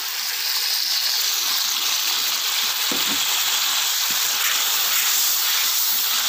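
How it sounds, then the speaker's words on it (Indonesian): Turmeric water made from blended fresh turmeric is poured into wilted spices in a hot pan for rice-cooker biryani, giving a steady, loud hiss and sizzle of steam that continues throughout without talk. "setelah layu seperti ini kita masukkan air kunyit ya teman-teman"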